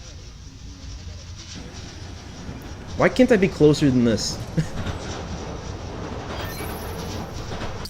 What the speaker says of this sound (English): Hearing the clatter of the wheels, the squealing when the trains turn or stop